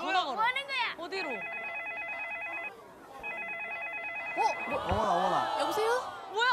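A telephone ring tone on a Korean TV variety show rings in two bursts of rapid warbling trills after a call is dialed, while people talk and exclaim around it.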